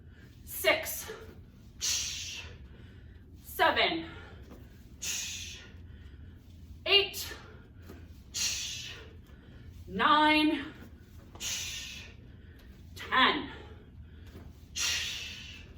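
Loud rhythmic breaths, sharp exhales and snorting puffs roughly every second and a half, close to the listener, with a voice between some breaths.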